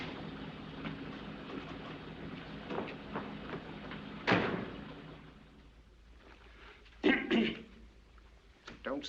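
Man coughing and clearing his throat in a 1941 film scene, a sharp cough burst in the middle followed later by a couple of rougher throat-clearing coughs, close by against a quiet room.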